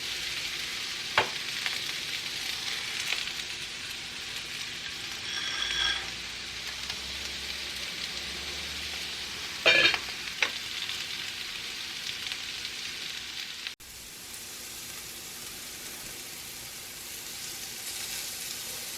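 Pasta for a vegan mac and cheese sizzles and fries in a pan while being stirred, with scraping stir sounds and occasional sharper crackles over a steady hiss, no voices.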